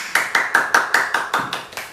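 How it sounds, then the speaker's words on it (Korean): Nine crisp hand claps land in an even, brisk rhythm, close and clear, each with a short ringing tail, with no talk over them. "박수!"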